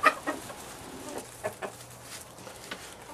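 Backyard chickens on an allotment plot cluck softly in short scattered bursts, fairly faint and close, with quiet gaps between the calls.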